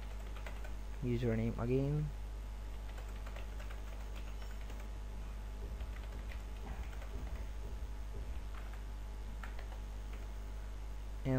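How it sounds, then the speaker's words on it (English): Soft keystrokes tap on a computer keyboard as a password is entered on a login page, light scattered clicks at low volume. A person speaks briefly near the start. "if I type a wrong pass, like WQS"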